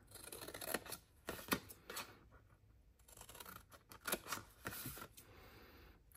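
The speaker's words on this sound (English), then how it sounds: "cut this one off, and then snip and snip." Scissors snipping through a cardboard treat box, a series of sharp, quiet cuts in irregular bursts with brief pauses between, close and alone without talk.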